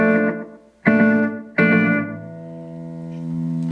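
Electric guitar through an Analog Alien Rumble Seat delay pedal: three struck chords, each ringing out with a short warbling modulated repeat tail, the last one sustaining and fading slowly, close and clear with no talking.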